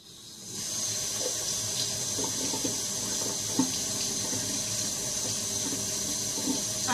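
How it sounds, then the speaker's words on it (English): Tap water runs steadily into a sink as pancake-making dishes are rinsed, a continuous close hiss with small clinks and splashes of the dishes under the stream, and no one speaks. "now I'm going to rinse these off."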